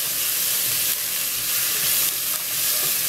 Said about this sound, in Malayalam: 2 ടേബിൾ സ്പൂൺ കോൺ, ഇത്രയും ചേർത്തിട്ട് നന്നായിട്ട് മിക്സ് ചെയ്ത് കൊടുക്കാം